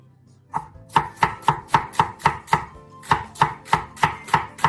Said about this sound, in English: Now I'll cut and add the cucumber.